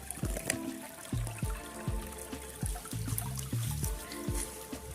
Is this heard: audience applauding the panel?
no